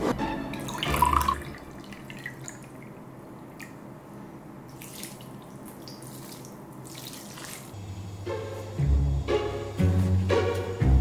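Water poured into a beef casserole during preparation for oven cooking: a steady, close rush of running liquid that lasts several seconds, with louder splashing and clattering toward the end.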